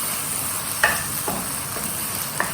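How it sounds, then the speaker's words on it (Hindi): Paneer burger filling mixture being stirred in a pan on a tawa, a steady sizzling hiss with a few soft scraping strokes of the spoon spaced apart. "फिर मिक्स करिए अच्छे से."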